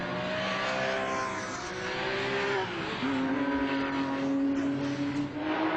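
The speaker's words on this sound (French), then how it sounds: "Arnaud Marchand, que l'on voit ici en tête à queue, avec sa 996 GT3 première génération" A first-generation Porsche 996 GT3 spins on a racing circuit, its engine note droning and shifting pitch as it rotates, then settling into a steady higher whine, heard from a distance.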